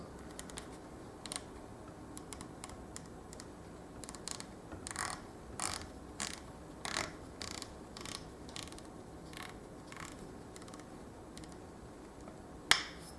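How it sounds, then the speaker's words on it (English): Faint, sharp clicks of the turret on a Sig Sauer Tango 4 3-12x42 rifle scope being dialed through several mils, in short irregular runs with one louder click near the end, in a quiet room. "They do have a nice click to them"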